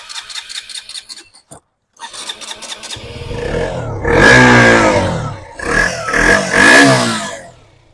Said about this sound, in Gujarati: આનું બી એન્જિન ચકાચક છે એ પણ શરૂ કરીને તમને અવશ્ય સંભળાવી દઉં